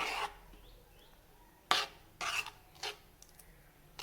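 A spoon scrapes and stirs egg curry with coconut in a pan, giving a few short, rasping strokes with quiet gaps between them, close and fairly soft.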